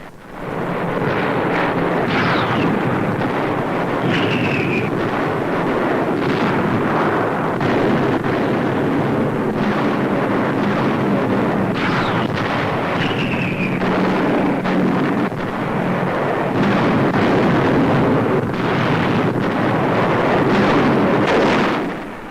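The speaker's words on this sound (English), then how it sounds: "The heaviest Allied barrage of the war precedes a dawn attack." Heavy WWII Allied artillery barrage and bomb blasts before a dawn attack, heard as a dense continuous roar of rumbling detonations with sharper cracks, loud and sustained throughout with no speech.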